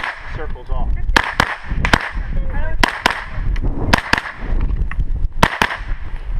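Sharp rifle shots from an AR-15 carbine at a subgun shooting competition stage, some in quick double taps, ring out close and loud over people talking nearby.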